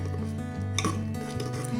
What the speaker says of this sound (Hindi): थोड़ा सा हरा धनिया डाल के इसको हम मिला देते हैं